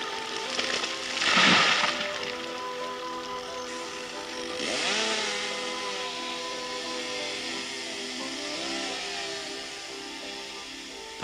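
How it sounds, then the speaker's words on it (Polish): A chainsaw whines at a distance, rising and falling as it fells trees in Augustów Forest, Poland, with a louder burst near the start and a steady mechanical drone beneath. "wysoki, nieprzyjemny dźwięk mechanicznej piły i głuchy huk"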